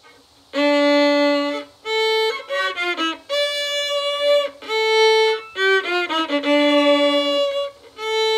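A simple melody played on a violin, heard as clear, sustained bowed notes in a slow phrase. The notes have short gaps between them and there is no talking.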